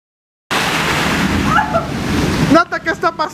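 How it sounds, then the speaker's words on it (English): Rain falling, a sudden loud broadband hiss and wash that keeps going, with a voice calling out briefly over it near the end. "Okay, it's just raining."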